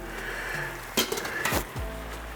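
A lid is set onto a pot of boiling bulgur, giving a few sharp metallic clanks and scrapes over a steady bubbling, sizzling background close by.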